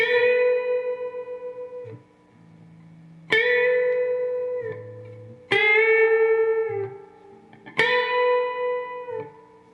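Electric guitar plays part 2 of a song slowly, in four sharply struck chord phrases with bright ringing overtones that sustain and decay, separated by brief muted low notes, alone and close.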